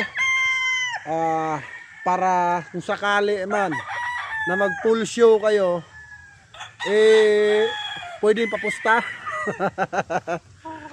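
Gamefowl roosters from a gamefarm crow loudly and repeatedly and cluck between crows, close by, with someone talking in and around the calls.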